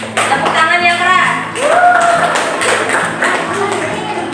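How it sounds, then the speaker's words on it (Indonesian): A classroom group claps loudly for group 3, a burst of hand claps mixed with children's voices and chatter. "Tepuk tangan untuk kelompok 3. Tepuk tangan yang keras."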